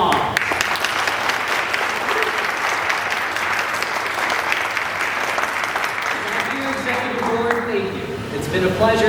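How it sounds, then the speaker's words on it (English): Sustained applause from a crowd, steady and loud throughout, with some cheering mixed in near the end. "So they deserve a very heavy round of applause."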